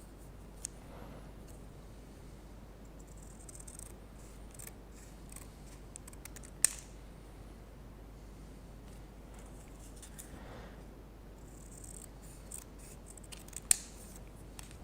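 Scissors cutting two long paper strips for a homemade kazoo, quiet crisp snips and soft paper rustles in a hushed room, with one sharp click partway through.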